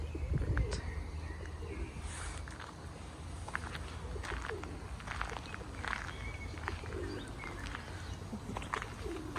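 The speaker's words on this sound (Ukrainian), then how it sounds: "Голуби дикие купаются." Wild pigeons cooing while bathing at a pond in a botanical park in Simferopol, with soft coos and scattered bird calls over a steady outdoor background hum.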